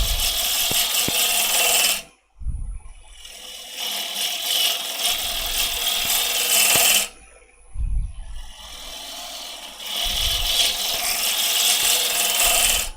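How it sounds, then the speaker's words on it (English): A woodturning gouge cuts across the bottom of a bowl spinning on a lathe, making three long, steady rasping passes separated by short pauses where the hiss drops away. "same cut as we did earlier to clean the bottom of our bowl up. Nice, slow, gentle passes."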